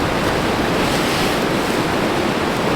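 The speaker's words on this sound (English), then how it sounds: "Wind just keeps getting stronger and stronger." Strong wind gusting through a late-fall campsite around an ultralight two-person tent, a loud continuous roar of buffeting noise battering the microphone with no pauses and no voices.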